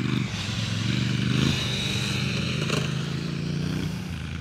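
Adventure motorcycle on a dirt track in South Australia, back wheel digging in: a steady close engine drone with a low throbbing note under gritty scraping and clatter of the tyre in loose dirt.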